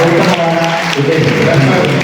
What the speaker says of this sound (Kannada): ಮತ್ತೊಮ್ಮೆ ಚಪ್ಪಾಳೆ